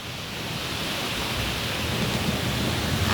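Heavy rain pours down in the UAE with flooding water, a dense, steady broadband hiss that stays loud and even throughout with no voices.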